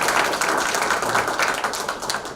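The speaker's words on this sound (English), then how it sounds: "Let's give a round of applause for all of" Applause from the audience at a Chinese American political alliance press conference endorsing candidates for elected office, a steady dense patter of clapping running close and fairly loud through the whole moment.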